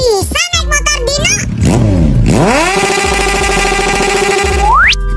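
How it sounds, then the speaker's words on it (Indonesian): A motorcycle engine revs up in a rising sweep, then settles into a steady, loud drone and ends with a sharp climbing whine; a voice and other brief cartoonish sounds come just before. "Aku bisa naik motor Dino"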